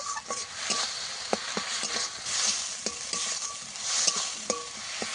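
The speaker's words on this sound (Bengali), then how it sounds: "এবার কিছুক্ষণ কষিয়ে নেবো যতক্ষণ না মশলা থেকে তেল ছাড়ে" Spiced masala paste with a little salt, sautéed in oil for a fresh pond-fish curry, sizzles steadily up close while a spatula scrapes and taps the pan in an irregular rhythm.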